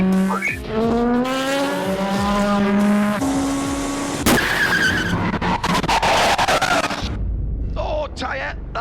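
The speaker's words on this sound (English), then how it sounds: "That's a tyre gone 200 miles an hour down the Mulsanne Straight." A race car at about 200 mph on the Mulsanne Straight at Le Mans loses a tyre and skids, with a loud engine roar, a sharp bang and then harsh scraping and tyre noise, under radio talk.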